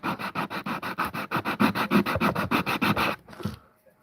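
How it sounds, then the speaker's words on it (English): Rhythmic rasping strokes of sandpaper on a wooden spoon, about twenty quick even passes close by, then a pause and a few softer scrapes. "I'm sanding my spoon"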